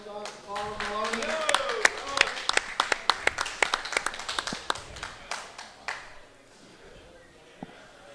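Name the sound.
audience applause for the runner-up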